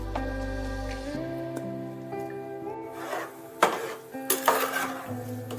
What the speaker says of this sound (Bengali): ভালোভাবে একটু নাড়াচাড়া করে দিতে হবে